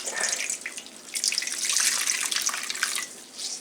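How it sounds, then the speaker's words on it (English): Drained cannelloni filling squeezed by hand through cloth, giving a faint, close wet trickle and splatter of liquid dripping into a bowl, alone. "pick up the edges and squeeze"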